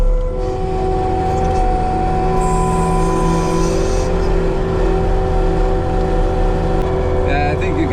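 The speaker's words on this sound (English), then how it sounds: "Oh, we got a car coming." A car coming along a snowy road during a snowstorm, heard as a rising engine and tyre hum over the steady nearby drone of idling skid steers, with a brief voice near the end.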